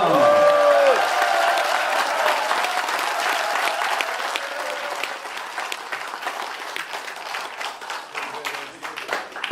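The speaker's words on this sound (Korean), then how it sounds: "박수와 환호를 부탁합니다" Crowd applause and cheering at a closing ceremony for a Korean Liberation Day walking pilgrimage, loud dense clapping from the start with a brief voice early on, gradually thinning and growing more scattered.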